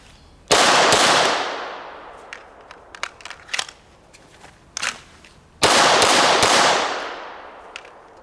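A Glock 17 pistol, Vickers edition, fired with 147 grain ammunition on a range at about 5 yards: two loud, sharp bursts of quick shots with ringing decay, separated by handling clicks and rattles.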